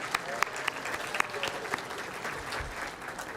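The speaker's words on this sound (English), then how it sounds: "So please give them another generous round of applause." A crowd at a couture fashion show applauds sponsors, steady dense clapping with a few sharper claps standing out near the start, moderately loud and continuing throughout.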